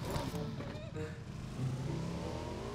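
A car driven in PUBG Mobile, its engine droning and revving at moderate distance, rising and falling in pitch while people talk over it.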